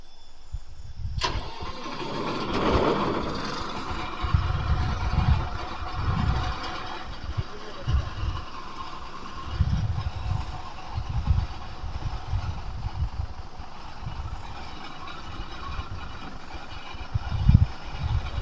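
Punni Grain Cruiser harvester engine starting with a sharp crank, then running at a medium, uneven idle with recurring low chugging surges, fairly near and steady for the whole stretch, no voices.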